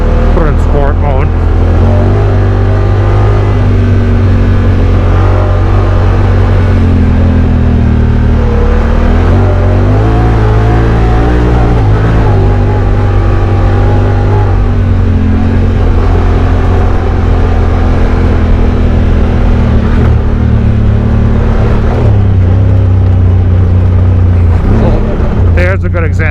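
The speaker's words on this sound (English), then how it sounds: "Just a little punch of the throttle, kick it around the corner." A Honda Talon side-by-side with Live Valve suspension and Tusk 30-inch Megabite tires drives a wet forest trail at Marienville, its engine droning loud and steady with throttle swells and revs throughout.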